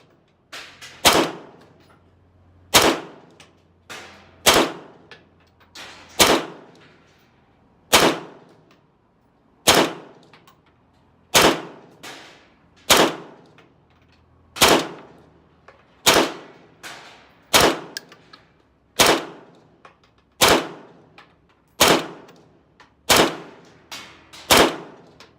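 An AR rifle built on a PSA Colt-pattern lower fires about sixteen sharp, loud single shots at a slow, fairly even pace, each crack followed by a short ringing decay.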